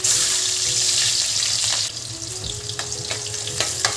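Chopped onions frying in a pan with cloves and spices for a Nellore fish curry, a loud steady sizzle with stirring scrapes and clinks over it.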